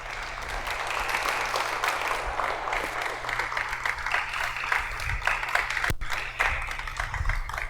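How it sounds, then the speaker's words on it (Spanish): A church congregation applauds steadily during a worship service, dense clapping filling the room at an even level with a low hum underneath and one sharp clap standing out near the end. "¿Todavía le puedes dar un aplauso al Rey?"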